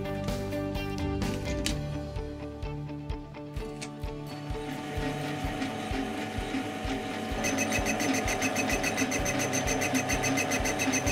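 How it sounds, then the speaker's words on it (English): Metal lathe taking a facing cut on lead-free brass in a home machine shop: a steady motor hum with rhythmic ticking and scraping of the cutting tool, continuous and fairly close, without talk. "The rough edge was then tidied up with a facing cut."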